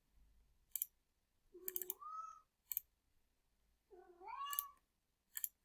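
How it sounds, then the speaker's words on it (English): A cat meows twice nearby, each call rising in pitch, amid sharp clicking sounds in an otherwise quiet room. "The cat behind me is telling me to hurry up here."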